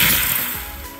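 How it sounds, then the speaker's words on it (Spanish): Steam wand on an espresso machine being purged before frothing cold milk for cappuccino, a loud steady hiss of steam and water sputtering for about a second. "Purgamos el vaporizador"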